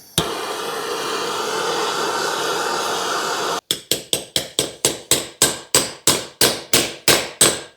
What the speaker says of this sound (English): I'm just gonna heat the hub and tap these guys in.